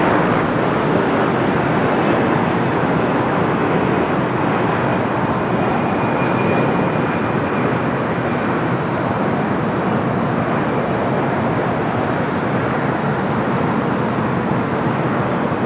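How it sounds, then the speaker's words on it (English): A United Boeing 787-9 Dreamliner arriving from Hong Kong lands on runway 24 right at Los Angeles airport, its steady broadband engine roar loud and unbroken throughout, with a faint high whine on top. "United Dreamliner. Nashua Toronto for 24 right, flight 153 coming from Hong Kong in the 787-9 Dreamliner"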